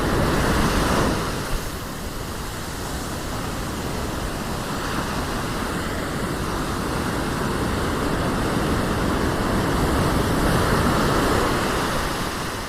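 Ocean surf pushing onto a beach near Durban while lure fishing, a steady loud wash of breaking waves and hissing foam filling the whole stretch with no break, mixed with some wind.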